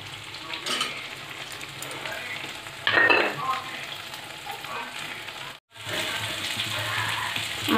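Poppy seed paste masala and greens fry in hot oil, giving a close, continuous sizzle with scraping stir strokes and brief louder bursts as the pan is worked, briefly cutting out near the end, with no voices.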